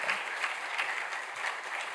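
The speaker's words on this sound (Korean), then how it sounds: "심장 뜨거운 격려 박수 한번 보내시겠습니다" Congregation applause at a Saturday dawn church service, warm encouraging clapping from many hands, steady and even at moderate volume with no one speaking.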